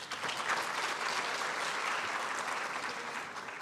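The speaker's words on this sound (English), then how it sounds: "From me to you, I give you a round of applause." Steady round of applause from a university graduation ceremony audience in a hall, many hands clapping at moderate distance with an even, sustained texture throughout.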